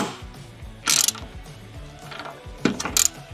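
A ratchet tightens bolts on the hinges of a rear-door carrier on a Mercedes Sprinter van, with rapid clicking pawl runs broken by a few louder metallic clanks, close and with no voices.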